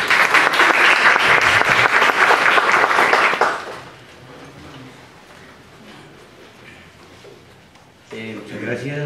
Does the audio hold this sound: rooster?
no